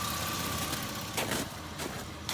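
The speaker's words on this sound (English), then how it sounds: "Did you hear the way the engine dropped?" A Buick car engine idles with a steady mid-low hum and some faint knocking, its revs audibly dipping partway through before settling, with a few brief clatters and no talking.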